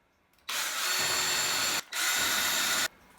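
Power drill boring pilot holes into a shower wall during a bathroom remodel, two loud sustained whirring bursts separated by a brief pause, close by and with no talk.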